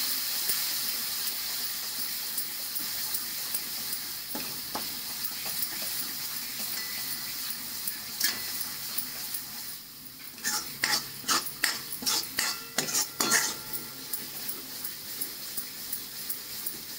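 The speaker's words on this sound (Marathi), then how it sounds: "1 मोठा चमचा काळा मसाला, 1 चमचा धना पावडर, आणि हे पण चांगले आता परतून घेतो." Black masala and coriander powder sautéed with a spoon in a pan, a faint sizzle under sparse scrapes, then a run of quick, sharp metallic spoon strikes against the pan near the end.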